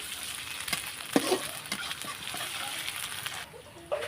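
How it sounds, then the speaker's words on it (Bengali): Ginger garlic paste fries in a pan with a soft continuous sizzle and crackle, broken by a few scraping stirs and utensil knocks, close and moderately quiet. "আদা রসুনটা আমি ভালোভাবে ভেজে নেব যাতে গন্ধ না করে"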